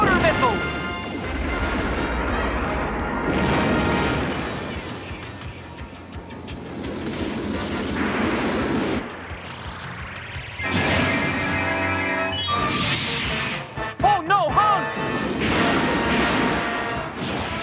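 Cartoon missile barrages from the Voltron: Defender of the Universe series, rumbling booms and crashing blasts layered with music and shouted dialogue, continuing across the stretch with a sharper burst of impacts near the end.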